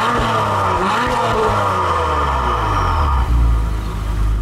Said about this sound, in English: Take a listen to the exhaust note in Sport Plus.